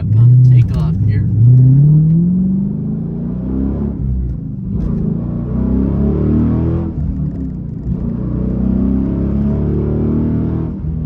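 Dodge Challenger SRT muscle car engine revving and pulling hard on takeoff, repeated rising engine sweeps and a deep rumble heard from inside, with someone talking over it.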